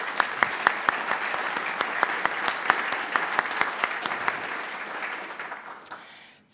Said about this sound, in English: Let's have a round of applause for Elvis and Kresse